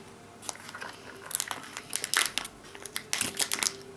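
Plastic and foil packaging of Chinese chocolate eggs and sweets is crinkled, crushed and snipped open with scissors, a run of close, sharp crackles and cuts that grows busier toward the end.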